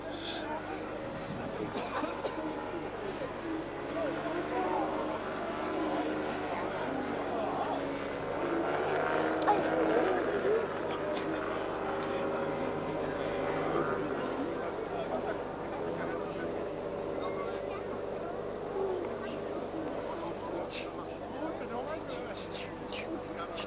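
A Challenger aircraft makes a low pass before landing at an airfield display, its continuous engine drone holding steady and peaking midway, under a commentator talking over a public address.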